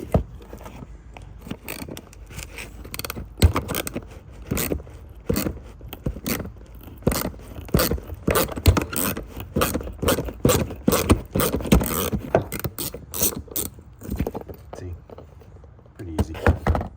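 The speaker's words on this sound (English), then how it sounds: "Just hold the vice grip and loosen it off." Metal scraping and clicking as a vice grip holds and loosens a bolt on a Chevy 1500 OBS truck's headlight and corner lamp area, with repeated sharp clicks and scrapes up close and someone talking through it.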